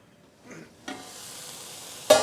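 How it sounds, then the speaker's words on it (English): Onion and bell pepper sizzle in oil in a covered skillet, a soft steady frying hiss after a brief muffled clatter, ending in a sudden louder burst of sizzle. "Then I will cover the skillet and let this cook gently until the onions and peppers have softened."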